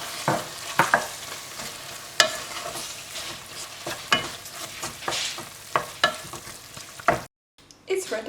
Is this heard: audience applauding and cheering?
no